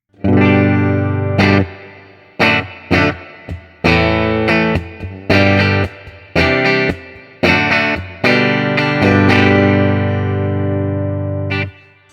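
A guitar through the acoustic channel of a Boss Katana Gen 3 amplifier plays bright strummed chords and short phrases, loud and close, with brief pauses between bursts and a final chord left ringing.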